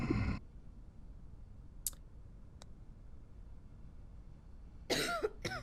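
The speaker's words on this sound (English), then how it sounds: "she has a cough, which is fair enough" A woman coughs in a zombie quarantine survival video game: one short burst at the start, then a louder cluster of coughs near the end, with brief faint clicks in between over a quiet background.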